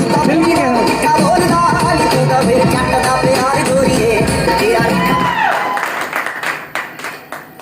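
Large audience clapping and cheering at a corporate event, a dense roar of applause with shouts and whoops that thins out toward the end into scattered individual claps.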